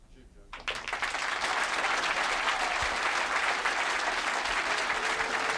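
A crowd at a 9-ball pool tournament breaks into sustained applause that swells quickly and holds steady and loud, with a commentator talking over it.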